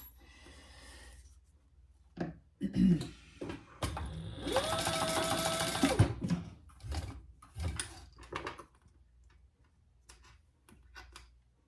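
Sewing machine stitching a handbag handle beside a metal D-ring, a loud continuous whirring run of about two seconds flanked by scattered clicks and handling knocks of fabric and hardware, close and otherwise quiet.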